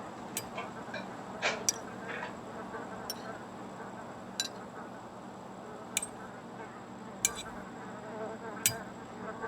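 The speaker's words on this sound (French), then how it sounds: "Ah oui, il y a des mouches, j'entendais un petit bzzz" A faint, steady buzz of flies in The Sims 3 video game hums in the background, with occasional sharp ticks and clicks breaking through.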